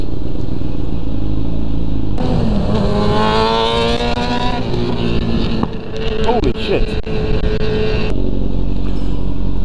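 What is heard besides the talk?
car engine revving through exhaust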